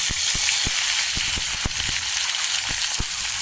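Chopped onion and tomato fry in a pan with a steady, dense sizzle, close up, broken by a few sharp ticks and pops of spatter; no voices.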